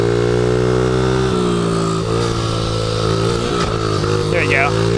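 A Honda CRF50 dirt bike rides on a public road, its small engine buzzing loud and close with a steady drone that shifts pitch as the throttle changes.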